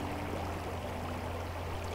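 Steady flowing water of the Niangua River, a continuous close rushing and trickling with a low constant hum underneath, no voices.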